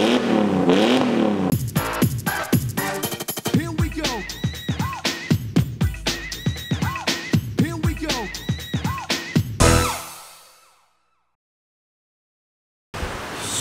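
A BMW E39 with a custom Valvetronic exhaust set open revs repeatedly in loud, rhythmic bursts, each rise and drop close and throaty, before the sound cuts off abruptly into silence and briefly returns at the end.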